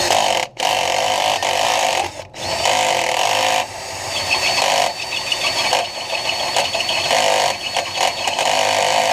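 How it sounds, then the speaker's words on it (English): A loud power drill whines steadily, drilling out a worn ball joint on a 2012 Equinox, briefly stopping twice early on before grinding on in long continuous bursts. "And I'll wind up drilling my hole out."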